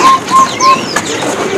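A striped tepus bird calls inside a bird shop: three short, clear, even whistled notes repeat in a steady rhythm, close and fairly loud over quiet shop background noise.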